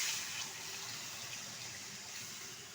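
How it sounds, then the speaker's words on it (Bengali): Water is poured steadily into a pan of spiced potato curry for a lentil fritter stew, making a continuous close splashing rush that slowly eases slightly. "দেবো এর মধ্যে পরিমাণ মতো জল।"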